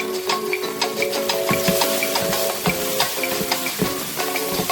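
Seasoning with a crumbled Maggi cube cooking in a pan, a close sizzle broken by repeated rhythmic scraping and clinking of a utensil stirring, with no voices.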